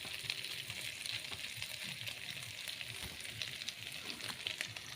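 Potato pieces fry alongside kuchia eel in a pan, making a soft, steady, fairly distant sizzle with faint crackles and low stirring thumps throughout, no voices.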